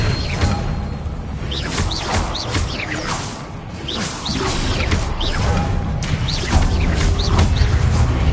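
Spell effects from the Hogwarts Legacy video game, with repeated whooshing casts, swishes and impact crashes laid over a dense, continuous game soundscape.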